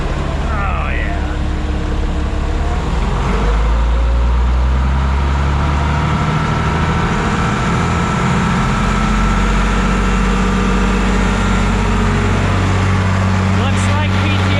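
An International tractor engine runs at PTO speed after a cold start on a farm before dry corn chopping, giving a loud, constant diesel drone that holds steady close by.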